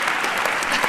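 Brief burst of audience applause at a livestreamed songwriters' performance, dense and even clapping throughout, fairly loud, with faint cheering voices in the crowd.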